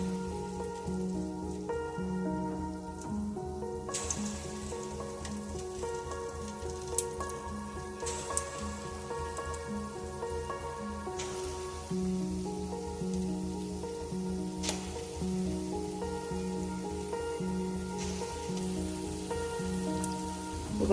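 Sweet bonda batter dropped into hot oil fries with a steady crackling hiss that runs throughout, partly masked by louder tonal background music.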